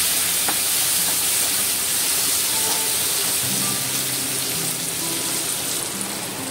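Tomatoes roasting with curry leaves in a hot pan give off a loud, dense, steady sizzle and hiss, close up and continuous throughout, with no talking.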